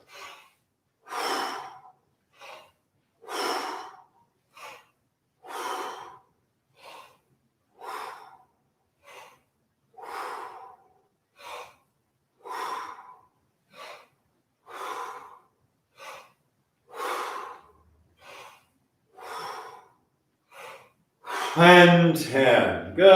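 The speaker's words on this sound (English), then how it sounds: "10 more breath squats. Exhale it out." Repeated forceful exhales during a breath-squat exercise in a vocal warm-up, short sharp breaths pushed out in a steady rhythm about every one to two seconds, close and clear, with a voice speaking at the end.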